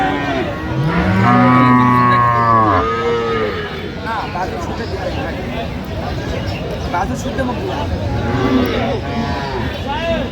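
Loud, long moos from a cow and calf ring out close by, followed later by another bellow, with crowd chatter in the background at a cattle market.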